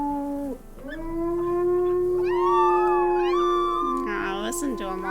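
Wolf pups howl together in the video game WolfQuest, overlapping long rising and wavering cries that sustain for several seconds, with higher yips joining near the end.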